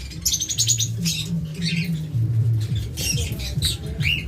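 Lovebirds kept for sale chirp in rapid, shrill bursts, several birds overlapping close by over a low background hum.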